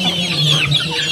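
Broiler chickens on a farm cluck close by, a dense, continuous chatter of several birds overlapping throughout the brief moment.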